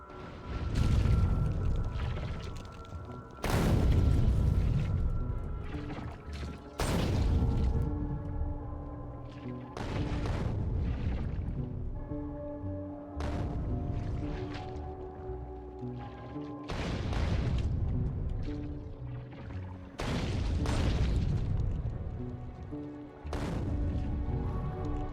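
Artillery fires repeatedly in the Factorio video game, a series of about eight deep booming shots at regular intervals of roughly three seconds, each trailing into a sustained rumble, loud and with no talking.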